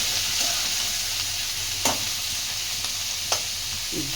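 Finely chopped tomatoes frying in a pan for capsicum gravy, a soft, steady sizzle with a couple of brief scrapes or taps and a low hum behind it.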